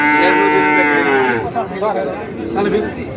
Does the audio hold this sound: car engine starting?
no